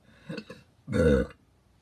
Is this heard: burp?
yes